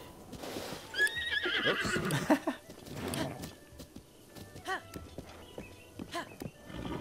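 A horse in Zelda: Breath of the Wild whinnies loudly near the start, then clip-clopping hooves patter along with more snorts and neighs, while a voice speaks briefly.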